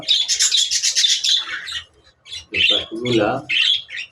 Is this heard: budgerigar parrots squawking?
yes